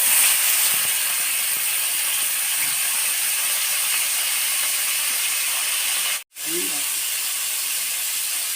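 Cut tomatoes frying in a spoonful of oil in a pan for a tindora chutney, a loud continuous sizzling hiss broken by one brief dropout partway through.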